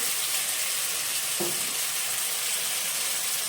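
Ginger-garlic paste sizzles in hot oil for a fish head muri ghonto, a steady close hiss broken by one brief stir partway through.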